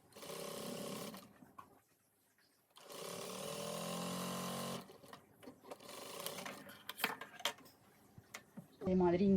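A sewing machine stitches a double-colour gown in bursts, a fast mechanical whir that starts and stops, with quiet gaps and handling clicks between runs.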